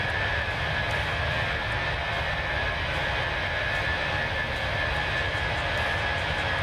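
Jet airliner engines drone in a flight simulator game, a constant, even roar with a thin steady whine on top, unbroken for the whole stretch.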